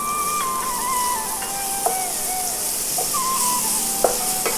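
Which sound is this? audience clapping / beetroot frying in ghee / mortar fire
beetroot frying in ghee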